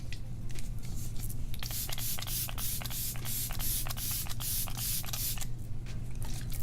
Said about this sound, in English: our final step is going to be spraying the face with a setting spray